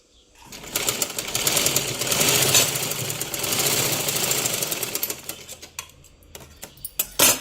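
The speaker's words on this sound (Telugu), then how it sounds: "ఈ సైడ్లో కూడా కుట్టేసుకోవాలి రెండు కుట్లు వచ్చినాయి ఇంకో కుట్టేసుకున్నాం" A sewing machine stitches a blouse side seam in a rapid, rattling run of several seconds, close by, then slows and stops with a few scattered clicks and taps.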